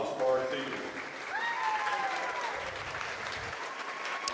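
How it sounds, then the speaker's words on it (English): Applause for a girls' varsity basketball team rises and holds steady at a high school gym, a moderate, continuous patter of clapping with crowd murmur and a voice speaking over it. "One more round of applause for our team."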